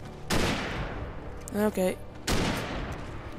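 Hunting rifle fire in the video game Alan Wake, with two loud, sharp shots ringing out near the start and end and a short musical game sound between them, while someone briefly speaks.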